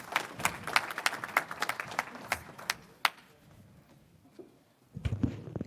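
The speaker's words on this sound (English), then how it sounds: "A big round of applause for them" An audience at a cybersecurity conference in Des Moines claps for a few seconds, then the applause thins out and fades, followed by some low murmuring and shuffling near the end.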